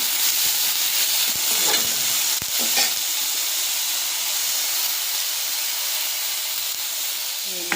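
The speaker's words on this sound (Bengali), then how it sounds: "এই যে কড়াইতে তেল গরম হয়ে গেছে, এখন ছেড়ে দিচ্ছি কুচনো পেঁয়াজ," Chopped onion and garlic sizzling in hot oil in a wok, a loud continuous hiss that holds steady throughout, with a few clanks of stirring near the start.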